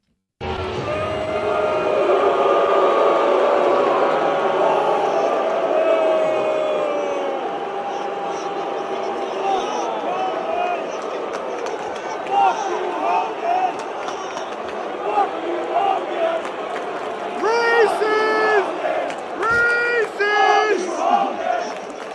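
A huge arena crowd of some 18,000 people roars and cheers continuously, loud and dense, with scattered shouts and voices rising over the din as it thins slightly toward the end.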